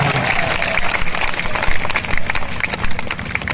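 Crowd at a BJP election rally in Udaipurwati, Rajasthan, clapping for Deputy Chief Minister Keshav Prasad Maurya, steady broad applause filling the clip with a few louder bursts, moderately loud and continuous.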